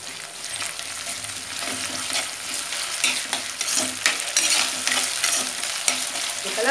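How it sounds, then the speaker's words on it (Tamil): Onions frying with curry leaves in a pan for a mutton head curry, a steady crackling sizzle with scraping stir strokes throughout, close and fairly loud with no talking. "வெங்காயம் நல்லா ஃப்ரை ஆகிட்டு இருக்கும்போது கருவேப்பிலை போட்டுக்கோங்க."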